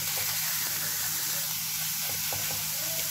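A kofta and egg burger patty sizzles steadily in a pan, a close, even crackle of hot oil running the whole time with no talking.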